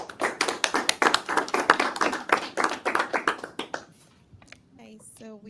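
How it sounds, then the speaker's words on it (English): Conference audience applauding, loud close rhythmic clapping for about four seconds that then fades out, followed by a brief quiet voice. "Another round of applause for her, please"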